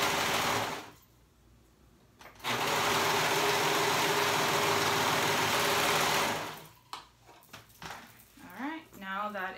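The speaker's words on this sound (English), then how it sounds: "You're just sewing the liner." A sewing machine stitches the liner of a wrap top in loud continuous bursts, a short run, a pause, then a longer steady run, before it stops and a voice speaks over light handling noise.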